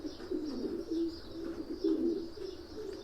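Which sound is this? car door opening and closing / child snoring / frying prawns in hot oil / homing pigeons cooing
homing pigeons cooing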